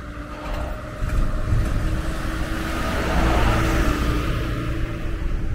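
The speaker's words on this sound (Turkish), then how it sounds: "Tam zamanında araba geldi." A car approaching along a street in the historic old town of Amasya, its engine hum and tyre noise swelling gradually and holding steady up close, with no talking.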